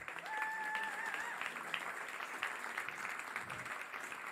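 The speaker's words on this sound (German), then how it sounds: "einen großen Applaus für das hele Team von diesem wunderbaren Töverhaft Ort von der Lagerhalle" Audience applause at the Plattsounds 2025 finale in the Lagerhalle venue: dense, steady clapping from a crowd, with a brief high whistle near the start, sustained evenly throughout.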